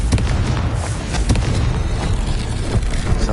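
A Confringo blasting spell explodes in the Hogwarts video game, a loud, dense run of booming blasts and pops that keeps going across the whole moment without a pause.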